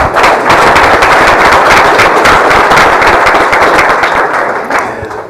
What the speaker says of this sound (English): Once again, one more round of applause for Dr. Parrish.